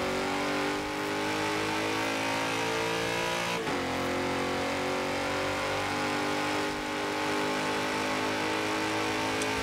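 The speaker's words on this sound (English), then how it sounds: "Angry V8. It's got quite some launch." A 2011 BMW X5 M with a V8 engine accelerates hard in the racing game Forza Horizon 4. The engine roars steadily and loudly, with one quick gear change partway through and no talk.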